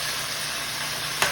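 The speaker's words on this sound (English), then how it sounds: "you uncover it, stir it on a bit, let it squish." Jamaican stew pork simmering in a pot, a steady bubbling sizzle throughout with a brief scrape of stirring near the end.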